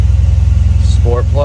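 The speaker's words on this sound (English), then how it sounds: "We'll just do a cold startup real quick." An AMG C63S runs with a steady, loud low engine drone through a cold start, its idle pulsing evenly, while a voice briefly speaks near the end.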